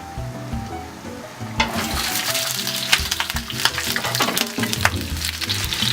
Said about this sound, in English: now we're gonna fry up our vegetables